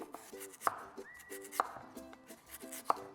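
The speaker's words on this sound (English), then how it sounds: "So here are a few of our Yukon Gold potatoes and slice them very thin" Thin slices of Yukon Gold potato are cut by hand with a knife. Three sharp, close knocks land on the board at a steady pace over a soft, constant background.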